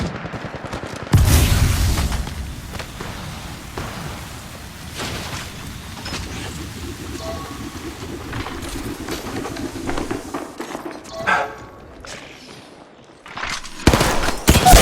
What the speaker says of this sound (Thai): มีคนยิงมาที่ฉัน